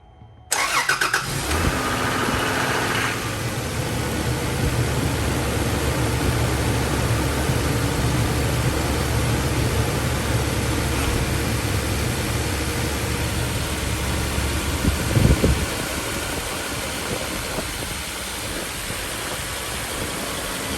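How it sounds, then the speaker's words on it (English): A Toyota Land Cruiser engine cranks and catches after spark plug wire replacement, then settles into a smooth, steady idle that hums on, with a brief louder surge near the end. "we're gonna crank it up and make sure it runs"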